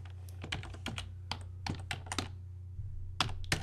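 Quiet, close computer keyboard typing: a quick run of crisp, uneven key clicks with brief pauses, heard alone without talk.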